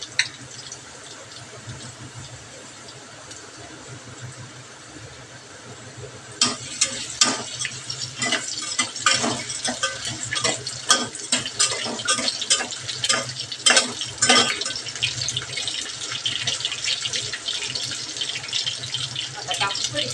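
Potato, onion, garlic and ginger fry in a pan with cumin and mustard seeds for khichdi. A low hum comes first, then a dense, irregular crackle of spits and pops takes over and continues to the end.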